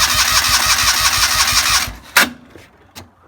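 A Joyner Sand Spider 650cc engine cranks over with a steady rapid chugging rhythm for nearly two seconds, then cuts off, followed by a couple of sharp isolated clicks or pops in near silence.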